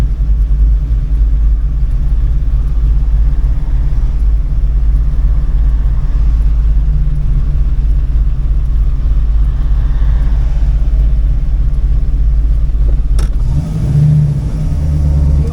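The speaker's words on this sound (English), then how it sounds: "think the clutch is almost done in this car. That's not me slipping it." A Torana's engine revs and rumbles steadily while driving, with a worn, nearly finished clutch, holding a loud, continuous low drone before a brief shift in tone near the end.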